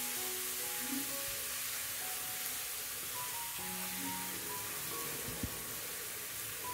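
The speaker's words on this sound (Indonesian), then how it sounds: "Tumis bawang merah, bawang putihnya sampai matang." Shallots and garlic sauté in oil for chili oil, giving a soft, steady sizzle with faint crackles and a quiet background hum throughout.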